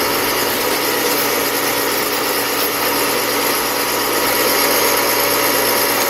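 A Frankford Arsenal case trim and prep center runs continuously, trimming a cartridge case with a loud, steady whirring hum and grinding buzz, close up.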